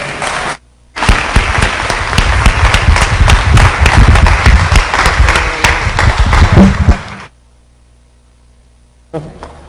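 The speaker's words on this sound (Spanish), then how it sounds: "Un fuerte aplauso, por favor." Loud, dense audience applause at a book presentation, a crowd clapping steadily for several seconds before cutting off abruptly into near silence.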